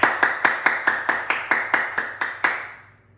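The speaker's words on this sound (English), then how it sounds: "let's clap at a forte level" A class of students clapping together at a loud forte level, about ten sharp unison claps in an even beat, close and strong, ending in a short fading ring of the room.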